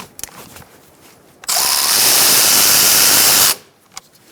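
A power tool, likely an impact driver, runs loudly and continuously for about two seconds while removing a front brake caliper bolt on a 2012-2017 Hyundai Accent, with faint clanks before and after.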